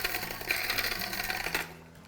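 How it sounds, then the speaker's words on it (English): Small electric spice grinder whirring steadily as it grinds dried ancho chilies into fresh powder, a close, continuous buzzing for about two seconds that cuts off near the end. "It's like a little spice grinder."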